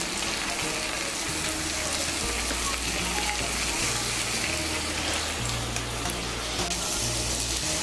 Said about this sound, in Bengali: মিশিয়ে নিয়ে একটু মশলার সঙ্গে কষিয়ে নেব